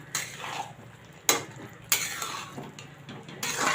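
Dry fruits fried in ghee being stirred into bottle gourd halwa in a pan, with close, sharp clinks and scrapes of a spoon against metal repeating irregularly over a soft background sizzle, no talk.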